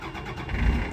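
The Isuzu 7.8 liter turbo diesel in a 2009 GMC C8500 crane flatbed truck cranks and catches in a short, low rumble that swells near the end.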